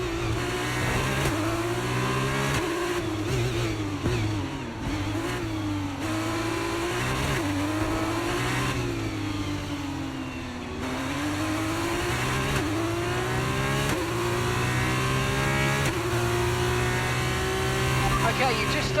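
A formula race car engine accelerating through the final lap of a race, its steady high-pitched whine rising and falling with gear changes across the whole stretch while a voice talks over it.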